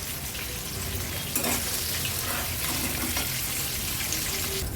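Chicken pieces deep-frying in oil over a high flame: a loud, steady, crackling sizzle close by, with a brief burst of bubbling and faint utensil movement, and no one talking.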